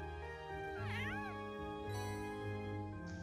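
A cat in the video game The Legend of Heroes: Trails of Cold Steel gives two or three close, clear meows over a steady background music bed.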